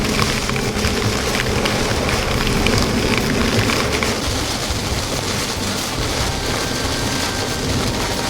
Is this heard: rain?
yes